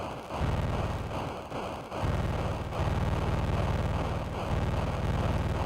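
An explosion in the Atari 2600 game Atlantis comes as a loud, coarse, low buzzing rumble that runs in long bursts with short gaps, harsh and synthetic rather than natural.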